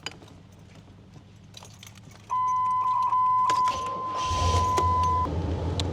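A 1988 Chevrolet Monte Carlo SS with a 305 engine cranks and starts up close by; a steady electronic chime rings before the engine catches and settles into a low, rumbling idle.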